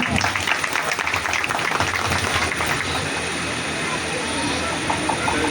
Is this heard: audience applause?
yes